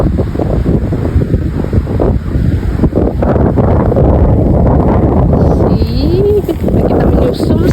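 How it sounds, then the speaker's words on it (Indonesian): Wind buffets the microphone on a beach while waves wash in the background, with people talking and exclaiming over the steady rush. "kita sampai di pantainya"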